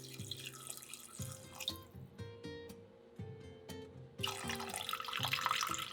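Water pours from a tap into a pot holding ginger, a steady splashing stream with dripping and bubbling that swells louder toward the end, with no talking.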